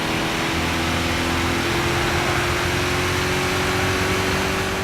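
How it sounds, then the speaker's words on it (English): A Corvette engine from Gran Turismo 6 drones in a steady, even tone that holds for the whole stretch, with no voices over it. "Some of the cars sound far better than others, like the Corvette here"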